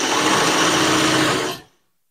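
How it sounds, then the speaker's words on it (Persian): A sewing machine running steadily as it stitches a dress skirt, a continuous whirring hum for about a second and a half that then winds down and stops. "زیر چرخ میاریم و از یه قسمت درس شروع به دوخت میکنیم"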